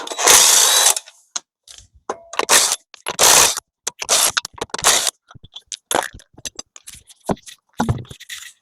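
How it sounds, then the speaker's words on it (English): Wheel nuts being removed from a 2019 Vauxhall Astra with a power tool, giving several short, loud bursts of ratcheting, whirring rattle separated by quiet gaps, close by. "Now we're gonna remove the wheel nuts."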